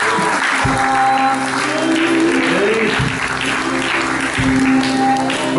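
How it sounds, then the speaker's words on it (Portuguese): A church congregation applauds steadily and loudly during a worship service, a dense wash of clapping with sustained musical tones and faint voices underneath. "Você pode aplaudir o Senhor."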